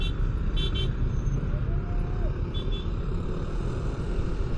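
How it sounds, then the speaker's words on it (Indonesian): Dense road noise from a traffic jam on Jalan Juanda toward Margonda, heard from a Sunra Legend L3000 electric scooter: a constant engine rumble with brief horn toots and wind buffeting, no talk. "Kita lagi macet-macetan nih di Juanda menuju Margonda."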